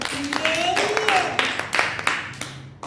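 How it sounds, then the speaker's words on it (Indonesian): Classroom applause for a student, scattered clapping from pupils under a teacher's voice and other talk, with distinct individual claps toward the end. "beri tepuk tangan buat Oken"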